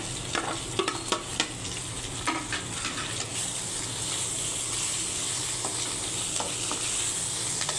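Onion and green chili sauté with tofu in a pan, giving a close, continuous sizzle with several stirring scrapes and clacks early on and no voices.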